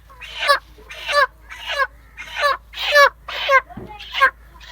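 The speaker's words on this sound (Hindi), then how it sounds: "मुर्गे जी ज़िबा होने को तैयार है।" A rooster at a chicken shop, waiting to be slaughtered, gives seven loud, clipped squawking clucks in a steady rhythm, each about half a second apart, close by.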